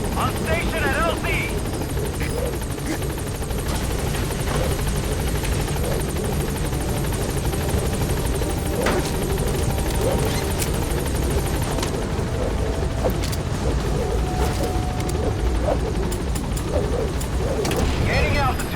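A support helicopter arrives in Metal Gear Solid V: The Phantom Pain, its steady rotor roar filling the scene throughout with thuds and radio chatter on top.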